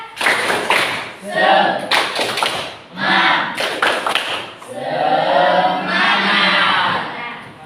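Schoolchildren perform a rhythmic spirit clap routine in a classroom, loud and close groups of claps in patterned bursts mixed with shouted chanting voices.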